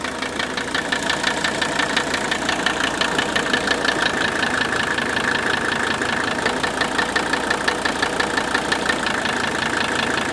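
Mercedes 300TD wagon diesel engine idling with a knocking noise: a loud, close, steady rapid clatter of evenly spaced knocks running throughout.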